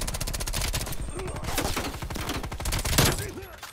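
Black Ops Cold War video game gunfire, a fast, continuous automatic burst with rapid evenly spaced shots, loud and close, lasting almost the whole moment.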